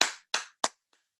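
Three sharp, separate hand claps at a steady rhythm, close and clear, each followed by a brief decay, with a faint fourth tap at the end and no talk.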